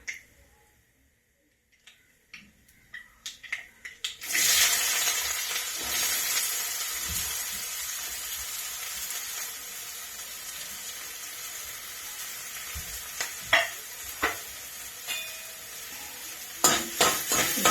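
A loud, steady sizzle of frying onions erupts and keeps going, with occasional clatter of a spoon stirring the pan.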